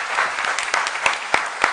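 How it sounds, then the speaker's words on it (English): Quiz audience clapping for the contestants, a short burst of dense, close applause with a few sharper individual claps standing out. "A round of applause for them."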